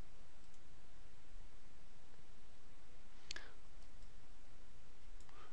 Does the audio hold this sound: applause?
no